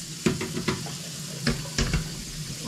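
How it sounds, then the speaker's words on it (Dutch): Tap water runs into a vessel indoors, a soft steady splashing rush broken by a few sharper knocks of glass or crockery, fairly close. "Voilà, het water wordt gevuld."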